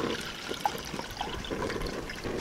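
Pickling liquid for grouper escovitch is poured into a pan of heated oil, giving a steady trickling and splashing of liquid at close range.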